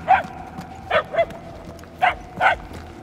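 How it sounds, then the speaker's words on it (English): A dog in the Marvel's Guardians of the Galaxy video game gives a run of short, sharp barks and yips in uneven bursts, loud and fairly close, with no speech over them. "The barking is getting fainter."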